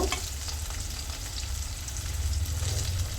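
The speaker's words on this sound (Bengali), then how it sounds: "এই যে ভালো করে এভাবে ভেজে নিব" Food frying in oil in a pan gives a dense, even crackle and hiss that holds steady throughout, close by and with no voices.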